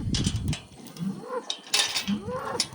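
Cattle, steers and bulls low close by, with a couple of loud, drawn-out moos and grunts rising over a noisy outdoor background.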